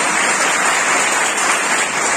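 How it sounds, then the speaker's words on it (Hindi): A crowd claps loudly and continuously, a dense wash of applause filling the whole moment without any talking. "चलिए एक बार आप लोग अपने लिए तालियां बजाइए"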